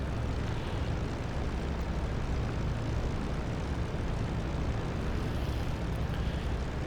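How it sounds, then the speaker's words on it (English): A P-51D Mustang propeller engine in the video game DCS drones steadily and loudly throughout after starting, a constant rumbling roar with no voices. "And our plane starts."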